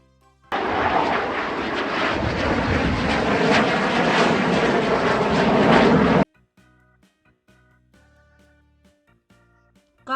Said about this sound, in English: Fighter jet.